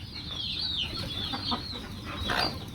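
Chickens in a rural homestead yard at feeding time give a run of soft, overlapping clucks and short squawks, close by over a low background rumble.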